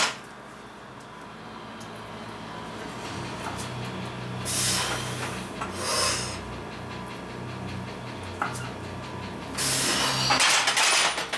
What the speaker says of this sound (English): Just listen to the beautiful sounds that these plates make.